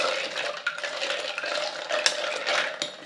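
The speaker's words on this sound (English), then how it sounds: "Give that a good stir round." Brandy and ginger ale stirred together for a summer cup cocktail, a steady swishing churn with scattered light clinks of spoon on glass, close and moderately loud, with no voices.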